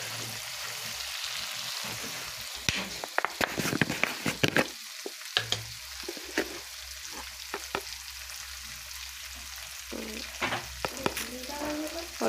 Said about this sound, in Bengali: ভালো করে এভাবে কষিয়ে নেব কিছুক্ষণ